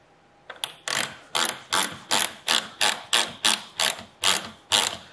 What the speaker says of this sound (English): And then this is a 10 millimeter wrench.